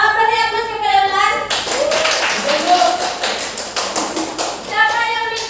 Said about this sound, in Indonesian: siapa yang beri aplaus kepada Ulan?